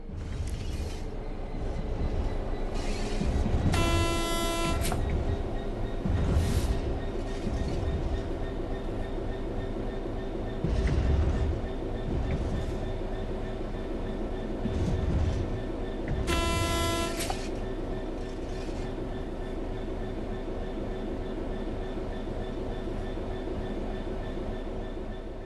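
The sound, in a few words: locomotive coasting in video game Train Sim World 4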